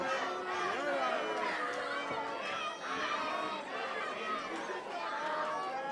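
Excited crowd at a CWE wrestling event in Thunder Bay, a dense continuous roar of cheering and shouting voices, loud and sustained throughout with rising swells.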